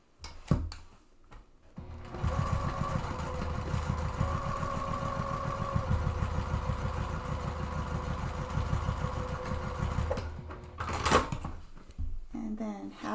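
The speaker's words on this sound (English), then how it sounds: "And you're just going to stitch right on that line." Sewing machine stitching along a straight line on an autumn tote bag, a steady rapid mechanical whirr running for about eight seconds between brief clicks of handling at the start and end.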